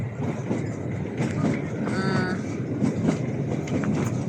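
Single-coach train on the Himalayan railway rumbling steadily along, with a continuous low running noise and faint wheel squeals and clatter throughout.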